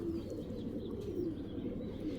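Pigeons, a pair of Bagha fancy pigeons, coo in a low, continuous murmur close by, steady throughout with no talking.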